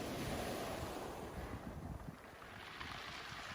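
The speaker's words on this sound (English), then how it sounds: "just remind yourself of the waves coming in and going out." Ocean surf rolls in and washes back out in a steady, broad wash of breaking waves, with wind buffeting the microphone throughout and no voices.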